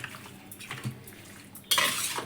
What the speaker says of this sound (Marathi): सगळं असं हलवून घेऊ चांगला.